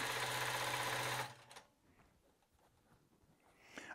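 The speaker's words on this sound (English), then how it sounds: "Now I'm gonna make a couple stitches and move on." A long arm quilting machine stitches rapidly through layered panel fabric for about a second, a loud steady mechanical whir that stops abruptly, followed by quiet handling sounds.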